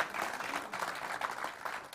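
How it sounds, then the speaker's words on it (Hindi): An audience applauds a poet at a Hindi satirical poetry gathering, with steady, dense clapping that holds at an even level for the whole stretch, with no voices over it. "आशीर्वाद तालियां देके दिया जाता है"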